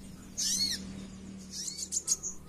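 A Javan white-eye bird sings short, high-pitched whistled phrases over a steady low background hum, with a few quick chirps toward the end.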